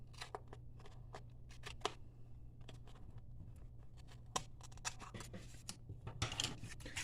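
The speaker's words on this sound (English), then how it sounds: "All I gotta do now is trim off this little tape here." Close scissors trim a strip of tape off a 6-by-6-inch square of cardstock, giving a string of sharp snips and scratchy paper rustles at a quiet, steady level with no talk.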